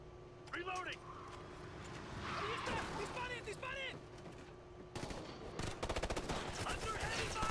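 Bursts of automatic gunfire in Ghost Recon: Future Soldier, a rapid machine-gun rattle that grows loud in the last few seconds, with voices talking over the battle.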